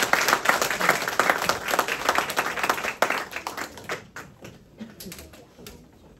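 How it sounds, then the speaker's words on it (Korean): A congregation claps at a 20th-anniversary thanksgiving church service. Brisk, dense applause fills the first few seconds, then thins out and fades into a quiet room. "지금 박수 치는 시간입니다."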